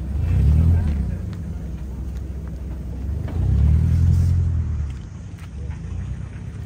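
On a busy road on the island of Gozo, a car rumbles past twice, each pass swelling low and then fading, against steady traffic hum.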